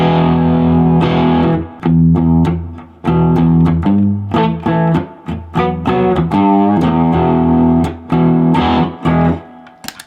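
Distorted electric guitar plays choppy rock chords and short riffs, loud and gritty, with brief gaps between phrases.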